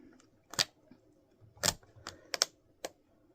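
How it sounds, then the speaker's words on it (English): Quiet, crisp snaps and riffles of playing cards being handled, a few short bursts spaced irregularly against near silence. "I've been practicing the perfect shuffle recently."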